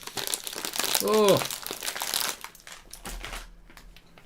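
A crisp packet of hot crisps crinkles and crunches up close while someone eats and talks, a rustling burst in the middle that thins to sparse crackles.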